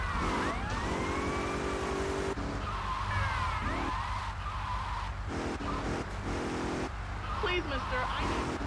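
Police sirens wail in repeated rising and falling sweeps in GTA Vice City: The Definitive Edition, amid traffic noise and skidding tires, with voices talking over the din.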